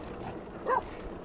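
A dog barks at a passing cyclist on a road, one short yip standing out against quiet background noise.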